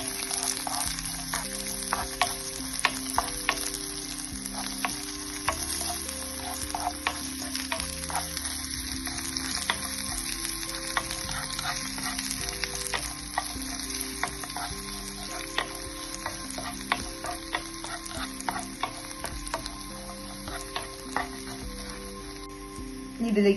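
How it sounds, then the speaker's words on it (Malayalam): Cashews and raisins fry in a pan for a sugar-free dates burfi, giving a continuous light sizzle with frequent ladle clicks and scrapes, over steady background music. "അണ്ടിപ്പരിപ്പ് ചെറിയ ലൈറ്റ് ബ്രൗൺ കളർ ആകുമ്പോൾ നമുക്ക് ഈ ഉണങ്ങിയ മുന്തിരി ഇട്ട് കൊടുക്കാം."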